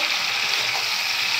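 Chopped tomatoes fry in a pan for a drumstick, potato and pumpkin vegetable curry, giving a loud, steady, close sizzle with no pauses and no voices.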